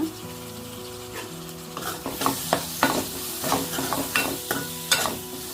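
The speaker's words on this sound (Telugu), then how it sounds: "సన్నగా తరిగి పెట్టుకున్న టమాటాలు కూడా వేసేసుకొని బాగా మగ్గనిద్దాము" Finely chopped tomatoes sizzle in a pan for mutton curry, with a constant frying crackle broken by repeated scraping stirs of a spoon against the pan.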